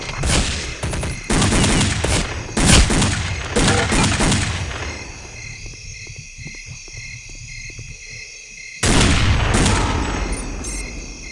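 Steyr AUG rifle gunfire in Counter-Strike: Condition Zero Deleted Scenes crackles in loud rapid bursts, close and punchy, with a quieter gap of scattered distant shots before another heavy burst at the end.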